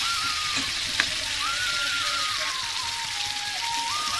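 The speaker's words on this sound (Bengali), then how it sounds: "তো এই যে দেখো একটু ভালো করে মশলাটা কষিয়ে নেবো" Spice paste sizzles steadily in a pan with hot oil, cooked down for a dish of eggs with giant taro; a continuous close hiss runs throughout, with one sharp tick near the start and a thin whistling tone drifting over the top.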